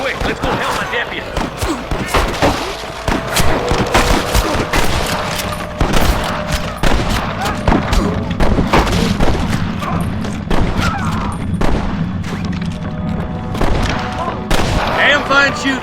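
Gunfire rattles through a Red Dead Redemption shootout on Xbox Series X, with rapid overlapping rifle and pistol shots and heavier booms cracking almost without pause for the whole stretch, loud and close.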